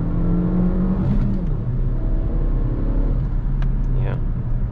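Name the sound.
Suzuki Vitara 1.4 Turbo accelerating at full throttle in second gear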